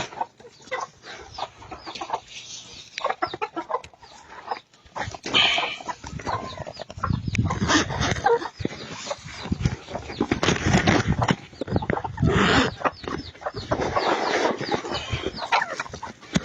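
Heritage native chickens, a small flock of full-grown hens with young chicks, cluck and call steadily at close range, with bursts of louder squawking and scratching and no talk.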